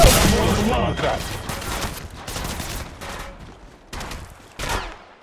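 Rapid video game gunfire crackles in dense bursts from a squad shooter, with several sharp volleys and short pauses between them, loud and close throughout.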